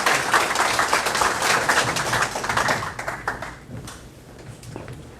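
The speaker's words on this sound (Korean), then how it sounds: "여러분 마이크 큰 박수로 한번 보십시오." A lecture audience gives a big round of applause for a guest speaker, dense rapid clapping that fills the room, then thins and fades away over the last couple of seconds.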